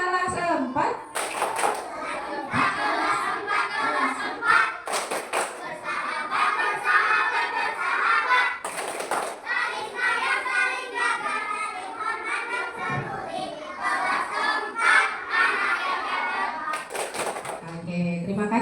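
A fourth-grade class performs a rhythmic clapping chant, sharp bursts of many hands striking together in patterned beats between stretches of children chanting and a teacher's voice.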